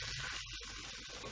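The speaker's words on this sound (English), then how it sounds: "Stir fry everything on high flame." Mushrooms and corn sizzle in a pan over a high flame, a steady loud hiss with brief dips as the food is stirred, no voices.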